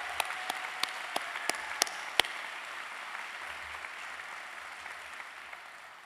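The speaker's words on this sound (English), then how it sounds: "Please join me in a round of applause to acknowledge their hard work and many accomplishments." An audience at a dental school commencement applauds, a soft, distant wash of many hands with a few sharper nearby claps at the start that fade into a gradually dying ovation.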